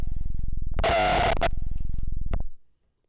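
A hardstyle 909 punch kick after a low cut gives one loud, distorted, sustained blast with a bright rasping midrange. It ends in a short click and a brief tail, over a low buzzing hum and with no voices.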